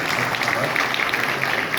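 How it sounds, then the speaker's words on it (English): Audience applauding a panel at a creator gathering in Dubai, a dense continuous clapping from a sizeable crowd filling the whole moment. "can we give a round of applause to our panel, please?"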